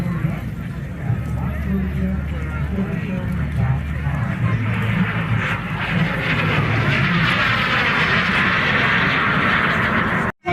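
A propeller stunt airplane's engine drones steadily overhead at an air show in Apple Valley as it tumbles, swelling louder toward the end, while people talk nearby.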